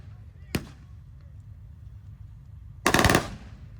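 Heavy machine gun fire rings out at an outdoor battle reenactment at the Ontario Regiment Museum: one sharp single shot, then after a pause a loud, rapid burst lasting about half a second, both close and forceful.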